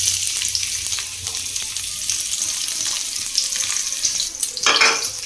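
Onion fries in a pan for chowmein with a loud, continuous sizzle and bursts of stirring scrapes, swelling near the end.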